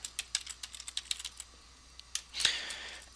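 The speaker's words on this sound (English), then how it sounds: "To do that, I type SSH, the username for that server," Fingers typing on a computer keyboard: a quick, soft patter of close key clicks, briefly pausing, then a final harder keystroke, with no one speaking.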